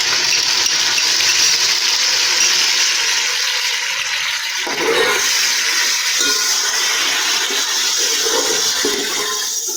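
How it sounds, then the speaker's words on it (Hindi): Tomato paste poured into a pan of ginger-garlic masala frying for chana pulao, with a loud steady sizzle whose tone shifts abruptly midway as the paste hits the hot oil, close and continuous. "अदरक और लहसुन के साथ मसाला भूनने के बाद हम इसमें डालेंगे 1 अदद टमाटर का पेस्ट"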